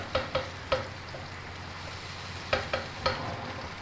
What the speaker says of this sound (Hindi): इसको तकरीबन 2 मिनट तक पकाएंगे टमाटरों को।